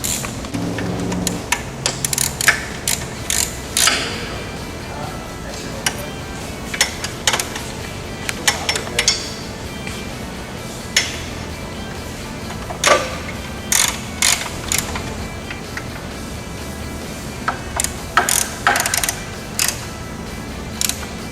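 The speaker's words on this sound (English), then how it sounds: "Tighten the 4 5/16 18 by 1 3/4 socketed cap screws that go through the carrier bearing housing" A ratchet tightens 5/16-18 by 1 3/4 inch socket cap screws through a carrier bearing housing on a belt drive, giving bursts of quick metallic clicks scattered across the stretch with brief pauses between runs.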